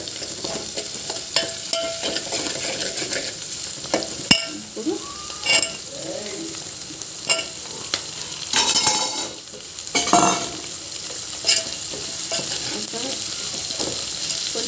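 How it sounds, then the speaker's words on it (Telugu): Drumsticks and onions fry in a pan with a constant sizzle, broken by occasional clinks and louder bursts of stirring and scraping, with no one speaking. "ఇప్పుడు మునక్కాయలతో సహా వేగాలి దాంతోపాటు ఉల్లిగడ్డలు కూడా వేగేస్తాయి"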